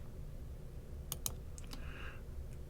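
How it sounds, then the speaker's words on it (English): A key pressed on a TI-Nspire CX graphing calculator gives a pair of quick, light plastic clicks near the mic, followed by a couple of softer taps over a low steady hum. "so let's press the doc key"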